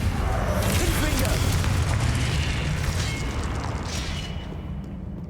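The Confringo spell explodes in Hogwarts Legacy, the video game, with a loud, rumbling blast and crackling burst that roars steadily before fading toward the end, beneath faint voice-like sounds.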